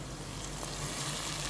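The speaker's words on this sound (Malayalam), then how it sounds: "ഈ സമയം തിളപ്പിച്ച് വെച്ച വെള്ളം ഉണ്ടല്ലോ, അത് ഞാൻ ഇതിനകത്തോട്ടങ്ങ് ഒഴിച്ചു കൊടുക്കുകയാണ്" Boiled water poured into a pot of sizzling beef biryani masala in a Kerala-style kitchen, giving a steady soft hiss and crackle close by, fairly quiet and without talk.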